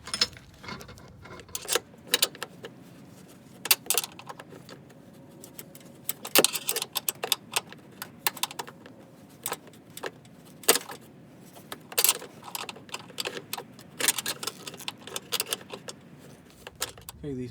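Strut bolts on a 2011-2017 Honda Odyssey are tightened with a wrench, producing sharp intermittent metallic clicks and clanks spaced irregularly over a quiet background, close and fairly loud, with no talking.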